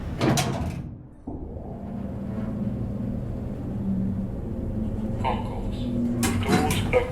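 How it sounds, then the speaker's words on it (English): Lift doors in the Train Sim World 4 game on the London Overground Goblin Line slide shut with a sharp thump after a spoken announcement, followed by a low steady hum and a brief clatter near the end. "Doors closing."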